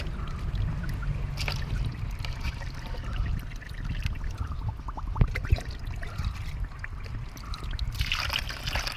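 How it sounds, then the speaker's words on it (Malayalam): Water is poured slowly into a pot planted with lotus, over fertilizer settled at the bottom, making a soft, steady trickle and splash that runs on for several seconds with faint outdoor background noise. "ഇതിപ്പോൾ ഞാൻ മുഴുവൻ വെള്ളം ഒഴിച്ചു"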